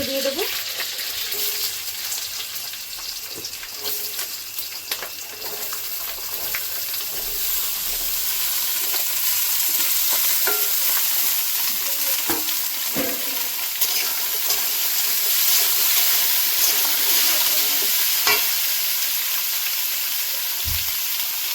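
Potatoes frying in a pan with kalonji and green chillies for a Bengali vegetarian aloo bhaja, a steady close sizzle running throughout with occasional stirring clicks and scrapes.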